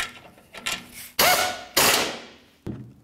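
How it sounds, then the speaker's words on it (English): Rear mounting bolts of an A/C condenser on a 2004-2015 Nissan Titan being tightened, heard as a few close, loud ratcheting and clanking bursts with short pauses between them. "After you've tightened the forward bolts, continue on to the rear bolts."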